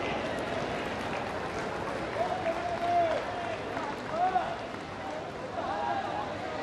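A large crowd applauds at a foundation stone laying ceremony for projects in Varanasi, with sustained, steady clapping filling the space while an amplified voice carries faintly over the top.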